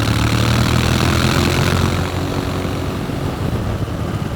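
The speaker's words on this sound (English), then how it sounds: "I went full throttle, and there's about a half a second delay for it to kick down enough gears to give you some response." Honda X-ADV 750 scooter-style motorcycle with an automatic DCT gearbox kicking down under full throttle on a UK road, a loud steady engine drone with wind roar that eases slightly partway through.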